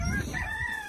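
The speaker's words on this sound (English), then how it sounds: "Do you hear the roosters?" Rooster crowing on a family farm in early spring, a single clear drawn-out call close by that lasts the whole second, with no talking over it.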